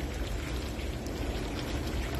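Hot maple syrup, close to a gallon, pours steadily into a gravity filter, a continuous close splashing gush with no talk.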